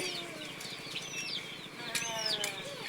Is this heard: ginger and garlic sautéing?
no